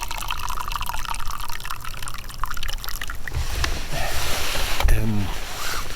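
Hot water pours from a thermos beside a river during a February winter fishing trip, a steady liquid trickle and splash running for several seconds under faint outdoor background noise.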